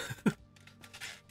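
Coughing from a person outside, with one sharp, loud cough burst near the start, then a string of fainter hacking and throat-clearing sounds trailing off at a distance.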